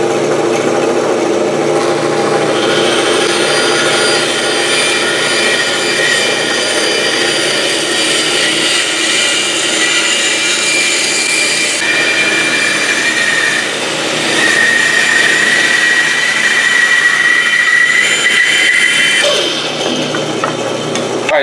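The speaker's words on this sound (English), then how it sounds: "on the bandsaw we're going to cut out this arc that we made" Bandsaw cutting out a wooden arc: a loud, continuous whining drone of the running saw with a shifting high tone as the blade works through the wood, steady for the whole stretch with no talking.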